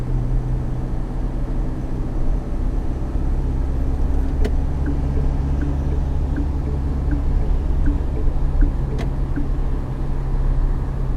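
A Mahindra Scorpio N cruising on a highway, heard from inside as a steady low engine and road drone with constant tyre rumble, even and unbroken throughout with no talking.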